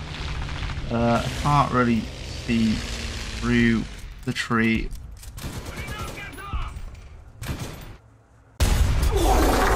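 Tank in War Thunder taking incoming fire, with bursts of gunfire and impacts crackling around someone talking, ending in a loud, dense volley of hits.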